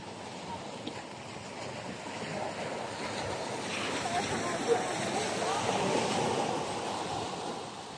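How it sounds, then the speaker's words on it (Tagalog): Strong ocean waves surge and wash continuously at the Britania Group of Islands, Surigao del Sur, with wind buffeting the microphone, a boat motor faint underneath. "sobrang lakas ng alon"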